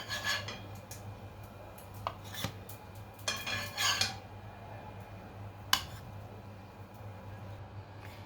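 A fried egg-topped breakfast being cut into small pieces in a pan, with metal utensil clinks and scrapes in short bursts over a quiet background hum, no voices.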